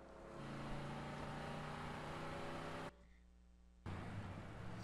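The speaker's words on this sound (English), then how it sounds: "Yeah, it's a motorcycle." A motorcycle engine from an animated action trailer roars steadily, briefly cutting out before the loud engine noise returns.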